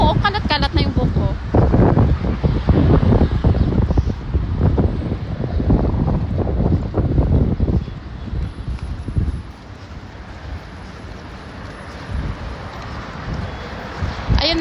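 Strong gusts buffet the microphone with heavy rumbling roar, easing off partway through, while people talk underneath on a street walk to Juffair, Bahrain.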